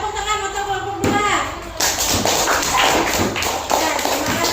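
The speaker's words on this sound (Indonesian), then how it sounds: "Tepuk tangan untuk kelompok 2." A classroom group claps to applaud a student group, a dense patter of many hands that swells after a moment and goes on steadily, with voices mixed in.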